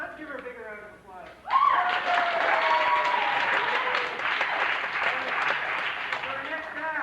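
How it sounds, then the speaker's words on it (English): Loud applause from a college talent show audience erupts suddenly and continues steadily, a dense wash of many hands clapping after a brief quieter moment. "Let's give her a bigger round of applause."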